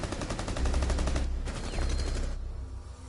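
Rapid automatic gunfire in Rainbow Six Siege, a fast repeating burst of shots lasting over a second, then a brief pause and another stretch of firing before it trails off, loud and without talk.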